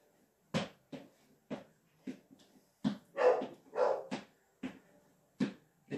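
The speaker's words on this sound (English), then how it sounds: "When your dogs are barking." Dogs barking at home, a run of sharp, separate barks spaced about every half second, fairly close and moderately loud, with nothing else behind them.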